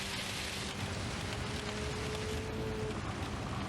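Heavy rain in the racing game Gran Turismo 7 pours as a dense, steady hiss with a faint engine tone underneath, continuous and unbroken for a few seconds.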